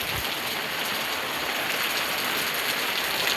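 First May rain in the Konkan falls steadily, a bright, even hiss of drops striking surfaces close by, with no voices.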